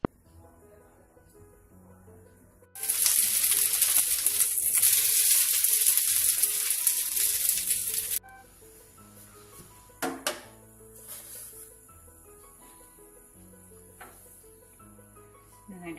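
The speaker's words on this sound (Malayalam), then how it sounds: "ബട്ടർ നന്നായി ഉരുകിയതിന് ശേഷം ഇതിലേക്ക് ഓരോന്നും ഇട്ട് ഫ്രൈ ചെയ്തെടുക്കാം." Meat rolls frying in melted butter in a pan, a loud steady sizzle that starts abruptly and runs for several seconds, then cuts off, leaving quiet background music and a few clinks.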